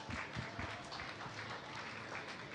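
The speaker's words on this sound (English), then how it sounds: "A round of applause for the sponsors for making this possible." Quiet applause from an audience for the sponsors at an indoor body piloting championship in a vertical wind tunnel, faint and fairly steady over low background rumble.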